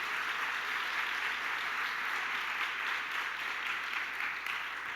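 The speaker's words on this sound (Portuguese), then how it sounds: "aplauda muito forte o nome de Jesus." Church congregation applauding during a sermon, an even, sustained wash of clapping heard at moderate distance for about five seconds.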